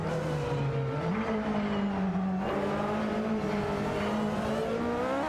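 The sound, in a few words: video game race cars, Aston Martin AMR1 and Porsche 962C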